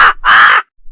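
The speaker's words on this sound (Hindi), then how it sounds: "हवेली के पास के पेड़ पर सिर्फ एक काले कौवा अपनी कर्कश आवाज में बार बार चीख रहा था।" Harsh caws of a single black crow perched in a tree beside an old mansion, two loud close calls with a short gap, then a third beginning at the end.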